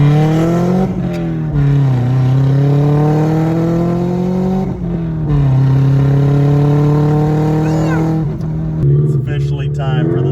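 Turbocharged Subaru accelerating hard, its engine note climbing steadily through the gears with a brief dip at each shift, loud and continuous throughout.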